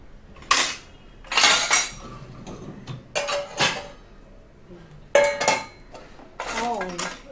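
Dishes and cutlery loaded into a Midea 8-place countertop dishwasher, a series of close clattering clinks of plates and metal utensils in separate bursts, with faint talk in the background.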